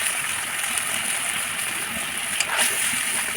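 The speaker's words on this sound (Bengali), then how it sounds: "মশলাগুলোর উপরে একটু পানি দিয়ে দেবো।" Water hits onions, ginger and spices frying in a kadai for duck curry, producing a loud, continuous close-up sizzle and splatter with no voices.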